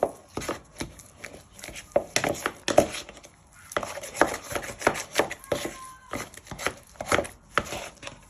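An egg is whisked by hand into butter and sugar in a bowl, making quick rhythmic taps and scrapes close by, with brief pauses in the beat and no voices.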